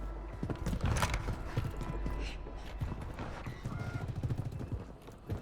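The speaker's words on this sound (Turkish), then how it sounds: "Merdiven sesi alıyorum. Yukarıya çatıya çıkıyorlar büyük ihtimalle." Quiet, irregular thumping footsteps on stairs in the video game Fortnite, clustered and slightly hollow, with faint creaks and mechanical clicks in the background.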